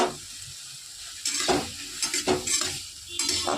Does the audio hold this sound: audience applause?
no